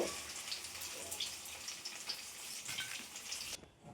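Pieces of paneer fry in hot oil with a steady, soft crackling sizzle that drops away abruptly near the end, faint and close with no voices.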